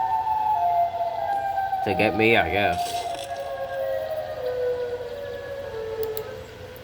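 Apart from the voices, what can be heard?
siren from Siren Head creature in a video game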